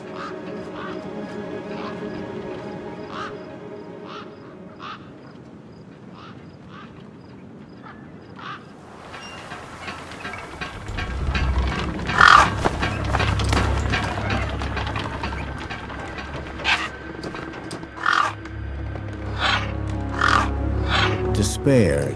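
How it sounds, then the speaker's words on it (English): Gang-gang birds in a wasteland setting in Beyond a Steel Sky, giving repeated harsh, creaky, ratchet-like calls, sparse and faint at first, then louder and denser over a low rumble with a voice talking. "Then, I heard them. Gang-gang birds."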